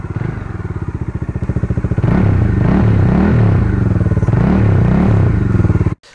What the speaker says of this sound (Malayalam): അത് നമ്മുടെ ആ ഒരു എക്സോസ്റ്റ് നോട്ട് ഒന്ന് കേട്ടോളൂ